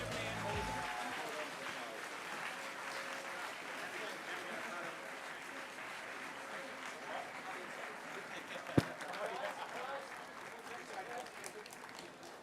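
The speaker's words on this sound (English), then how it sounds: "Give GAC Pindar a huge applause." Outdoor crowd applause for the winning GAC Pindar sailing crew at the GKSS Match Cup Sweden 2017 prize ceremony: steady, dense clapping sustained throughout, with one sharp louder clap or knock near the end.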